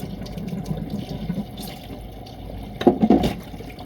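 Tap water runs into a kitchen sink while food is rinsed for a stir fry, a soft steady splash that swells into louder, choppier bursts near the end.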